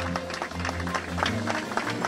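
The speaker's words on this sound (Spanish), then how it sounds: "Un aplauso" Mourners applaud at the funeral of Indigenous leader Berta Cáceres in Honduras. Steady scattered clapping fills the whole moment, with a low sustained tone underneath and no speech.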